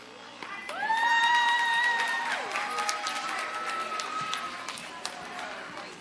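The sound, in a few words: audience applauding and cheering for a children's class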